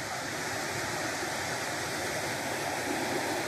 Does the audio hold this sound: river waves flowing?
yes